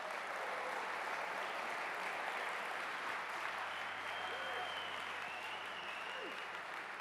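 An audience at a school F1 racing competition's world finals applauds, steady sustained clapping from a large crowd that carries on evenly throughout, somewhat distant.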